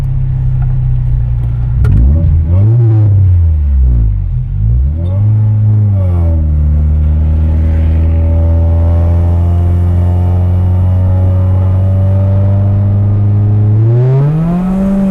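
A modified Honda Accord with engine and exhaust upgrades revs loudly while driving on a wet road, its deep exhaust note rising and falling through several quick throttle blips before settling into a steady drone and climbing again at the end.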